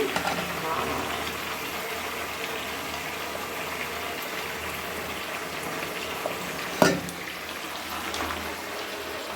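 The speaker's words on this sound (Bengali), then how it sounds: "এখন মাংসটা করছি একদম সুন্দর করে মাংসটা কষাচ্ছি" Meat being sautéed in a pan hisses in a steady, fairly loud sizzle, broken once by a sharp utensil clank.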